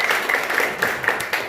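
A church congregation claps together in a loud, fairly close burst of applause with a loose rhythmic pulse, lasting the whole moment.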